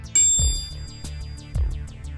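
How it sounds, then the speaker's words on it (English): A Mizuno MP67 forged muscleback golf iron strikes a ball, a crisp impact followed by a couple of softer thumps in a short close sequence, heard alone. "That's the sound of Mizuno's MP67 muscleback."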